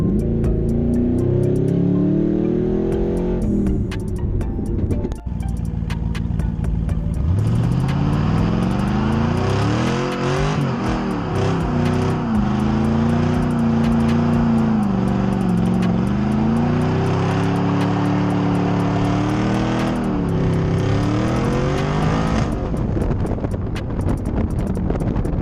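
Chevrolet Caprice PPV police car with a newly installed shift box, its engine revving up hard and climbing through several gear shifts, loud and close with wind buffeting the microphone throughout.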